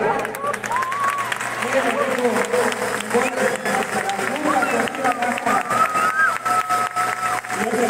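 Crowd at a lucha libre arena applauding and cheering a retiring Yucatecan wrestler, lively clapping and shouts mixed with excited voices and whistles, loud and busy throughout.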